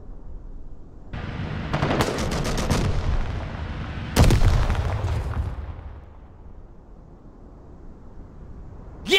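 Infantry come under gunfire in the war game Call to Arms: rapid machine-gun bursts and sharp shots crackle loudly, with a heavy blast midway before the firing fades into a low rumble.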